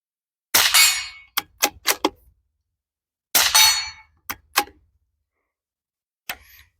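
A .22 rifle fires at a steel target, two sharp cracks each followed by a few quick metallic rings and pings, then a last fainter hit near the end, close and alone against silence.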